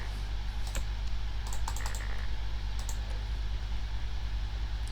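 While a Five Nights at Freddy's fangame is played, sharp mouse and keyboard clicks come in small irregular clusters over a steady low hum, close and moderately loud, with no speech.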